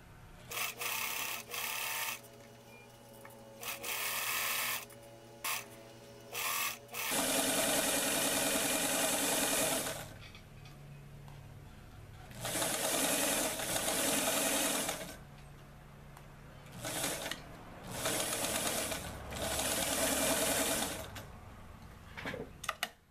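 Sewing machine stitching a doll apron from a Simplicity 2761 pattern for an 18-inch doll, running in repeated bursts of steady mechanical whirring, slow and careful, separated by short pauses and no talk.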